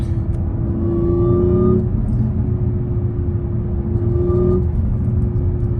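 A modified Audi S4 B8.5 engine revs up twice, each time in a steady rising drone lasting a second or two over a low rumble, close and loud with no talking.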